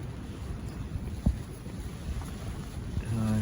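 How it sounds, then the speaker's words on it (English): Strong gusting wind with heavy rain at a fishing lake, a steady close rushing roar buffeting the microphone, with one brief knock partway through. "It is torrential rain, and yeah, the wind has definitely turned up."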